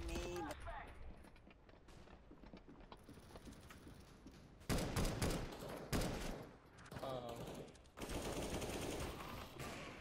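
Automatic gunfire in the video game CS:GO rattles in several bursts, louder in the second half, with someone talking over parts of the shooting.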